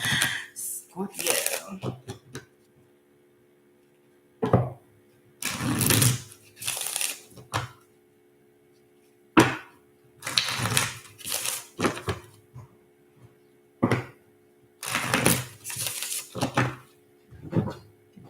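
Tarot cards being shuffled in repeated bursts of riffling and slapping, separated by short quiet gaps, with a person talking in between.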